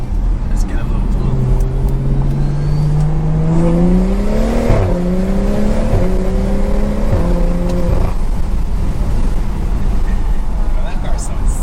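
A BMW 335i with stage 2+ tune and pops-and-bangs exhaust accelerates at night, a loud droning engine tone climbing through gears with shifts, heard from inside the car.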